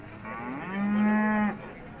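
A calf gives a single loud, drawn-out moo lasting over a second at the Urzhar livestock market, set against a low background murmur of the cattle yard.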